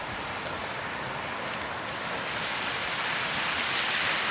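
A river rushes past a campsite at Weary Creek recreation site in British Columbia, a close, steady wash of flowing water with no pauses and no voices.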